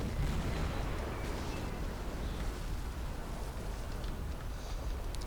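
A high-explosive shell from a Hummel self-propelled artillery gun strikes a mortar position in a World War II strategy game, a dense continuous rumble of blast and debris noise with scattered pops, steady and fairly loud throughout.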